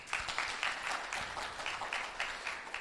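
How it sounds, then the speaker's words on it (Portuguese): A classroom audience applauds a student during a calculus lecture, with steady clapping running dense and even for about three seconds. "Palmas para o nosso amigo aí"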